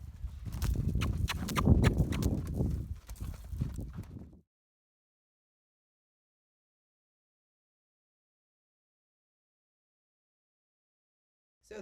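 A gaited horse pacing, its hooves clip-clopping in a steady close rhythm for about four seconds before everything goes silent.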